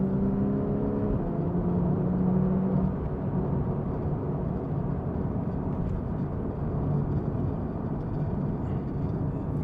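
The engine of a Porsche 911 991.1 Carrera S with PDK dual-clutch gearbox runs as a steady, loud low rumble and whir throughout, with a brief tonal hum early on and no voices.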